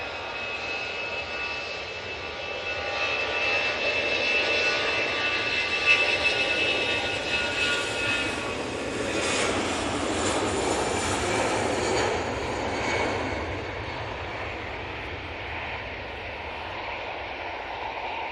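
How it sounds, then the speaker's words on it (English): An EasyJet jet airliner departs Manchester Airport for Belfast, its engine roar building to a broad peak midway and then trailing off as it climbs away at moderate distance, with no voices. "And that EasyJet's off to Belfast."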